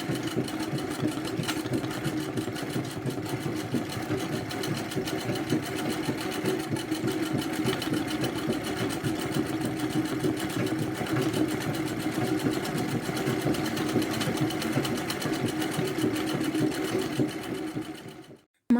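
A zigzag sewing machine stitches steadily through a machine embroidery piece, a continuous close mechanical whir with rapid needle chatter at an even pace throughout, stopping abruptly at the end, with no talking.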